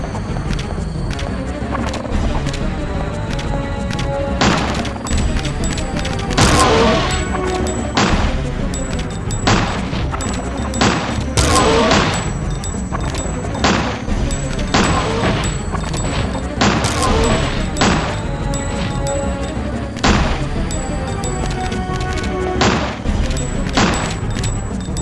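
Repeated gunfire from the survival-horror game Dino Crisis, with loud shots and heavy bursts arriving in irregular clusters over a steady in-game background.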